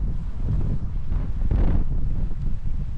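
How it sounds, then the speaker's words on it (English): Heavy wind gust buffeting an Insta360 X4 camera microphone outdoors in rain, a loud low-frequency roar that swells in the middle and stays close and continuous, with no voices. "There we go, there's a nice big gust of wind."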